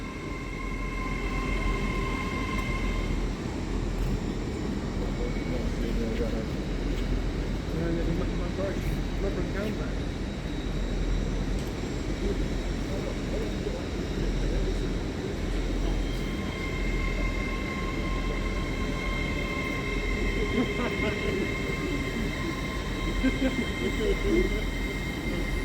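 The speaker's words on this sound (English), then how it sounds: "arriving in here is a slightly delayed 1046 Great Western Railway service to London Paddington from Exeter St David's" A Great Western Railway class 800 unit, 800 320, on a delayed Exeter St David's to London Paddington service rolls into Reading station with a steady low rumble and whining tonal hum, while someone talks over it.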